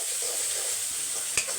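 Chopped onion sautés in a pan for lemon rice, giving a soft, continuous sizzle with one brief clack of a spoon near the end.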